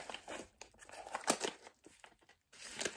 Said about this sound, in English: A bit of crinkle never hurt anybody.